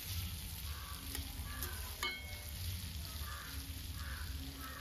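Vegetable pieces frying with a little jaggery in a covered pan give a steady soft sizzle throughout, with crows cawing now and then in the background.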